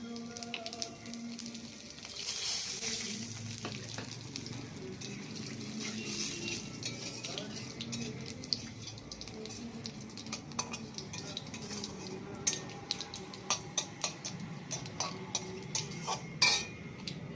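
Bay leaf, dried chili and cumin fry in a pan with a soft steady sizzle, joined by clinks of a utensil against cookware that grow sharper and more frequent near the end.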